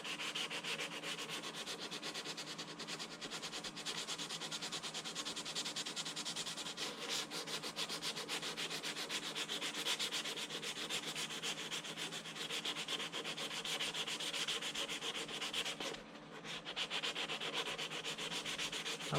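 Steady, continuous scratchy rubbing of 180 grit sandpaper on a 1:350 scale plastic Polar Lights USS Enterprise refit model kit, close and even throughout with one brief pause near the end.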